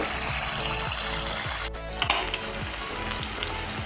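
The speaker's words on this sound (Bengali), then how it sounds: "ম্যারিনেট করা চিকেনগুলো আমি ভেজে নেব।" Marinated chicken pieces for chilli chicken deep frying in hot oil in a kadai, a loud steady sizzle with bubbling crackle throughout and a brief dip in the middle, no voices.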